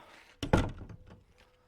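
A door on a small timber-framed farm building is opened with a handle, giving a soft rattling clunk and a few quieter knocks, fairly close and fading quickly.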